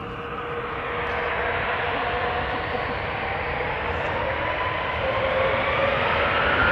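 KLM Embraer 190 jet airliner departing Amsterdam Schiphol for Zurich, a loud, steady broadband jet roar with a faint rising whine, sustained throughout without pause.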